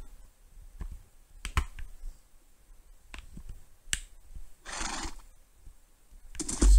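A horse in the Minecraft video game gives a short, fairly loud neigh midway through, among scattered soft clicks and taps, with no talking.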